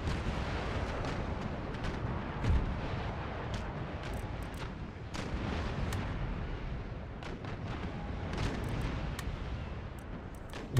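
Naval cannon fire from Empire Total War, with broadband booms and sharp cracks scattered through a dense, continuous roar of battle, fairly distant and muffled, with no clear speech.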